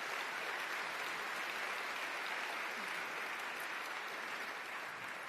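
Steady, dense applause from a large convention audience at a Conservative Party of Canada event, a continuous broadband roar of many hands that holds at an even level throughout, with no voices over it.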